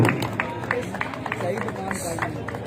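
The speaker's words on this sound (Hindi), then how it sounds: "तालियां बजाएं जी मेहमानों के लिए" Crowd at a local cricket match applauding the guest players during introductions, scattered claps mixed with murmuring voices and general hubbub, moderately close.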